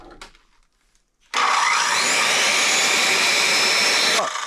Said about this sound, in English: There's my big skill saw.